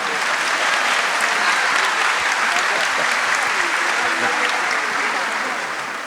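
Loud, sustained applause from a large audience at a spiritual talk, a thick, even roar of clapping that carries on for several seconds before tapering off slightly at the end.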